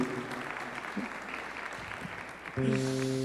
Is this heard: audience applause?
yes